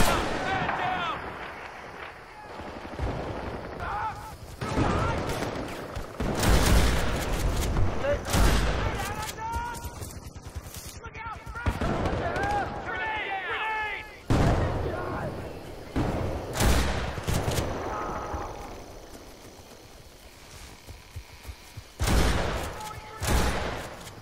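Trench gun and other weapons firing in Battlefield Bad Company 2: a string of sharp, loud shotgun blasts and thumping gunshots in uneven bursts, mixed with frequent shouted talk between shots.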